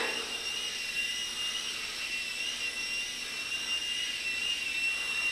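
A Silverlit HydroCopter toy with coaxial rotors whines at full throttle near water, a steady high-pitched motor buzz holding at an even, moderate level throughout.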